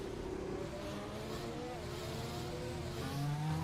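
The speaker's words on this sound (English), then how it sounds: "have Crazy Joe giving way, staying off track as a Ferrari goes by" A Ferrari Formula 1 car in the F1 2020 video game passes by at Suzuka during the Japanese Grand Prix, its high engine whine shifting pitch over a steady background of other racing engines.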